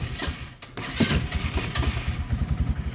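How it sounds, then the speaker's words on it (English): Bighorn gas golf cart engine cranking and catching, settling into a rough, throbbing low idle, close and loud with no talk. "To crank the machine, all you do is turn switch on."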